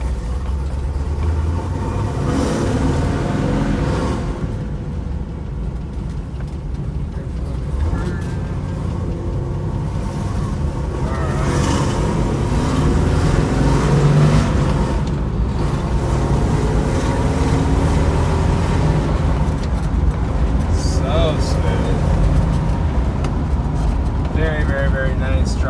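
A 1970 Chevrolet Nova SS drives on the road and works up through its gears, its engine rumbling steadily up close. Someone talks over it at times.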